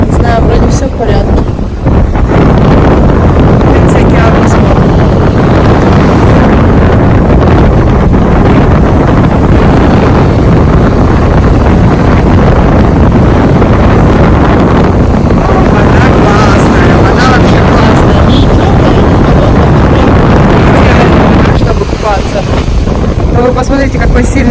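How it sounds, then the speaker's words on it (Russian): Strong wind from Hurricane Michael on the Florida coast roars and buffets the microphone in a loud, steady rush near water, with a person talking over it. "Вы посмотрите, какой сильный ветер сегодня."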